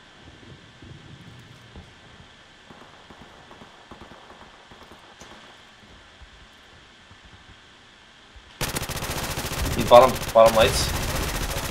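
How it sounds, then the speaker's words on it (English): Rapid video game gunfire in a zombie shooter bursts in loud and dense near the end, after a quieter stretch of faint scattered shots and talk, with a voice speaking briefly over it. "I'm getting fucking gunned right now"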